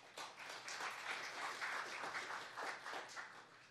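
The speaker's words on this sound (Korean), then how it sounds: "소개할 때마다 큰 박수를 부탁드립니다." Audience applause at a Korean human rights forum as a dignitary is introduced: a dense, steady wash of many hands clapping for several seconds, fairly distant and even, with no voices on top.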